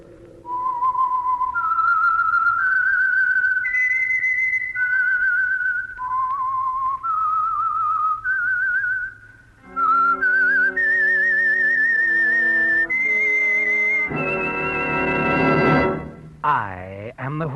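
A clear, melodic whistled radio signature tune rises and falls over a sustained low tone, ending with a swell of orchestral music.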